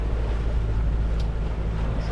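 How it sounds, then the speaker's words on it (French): Sailboat motoring under engine power at sea near Messina, a steady low engine drone mixed with wind and water noise, close and continuous for a couple of seconds. "On navigue au moteur là depuis 2-3 heures"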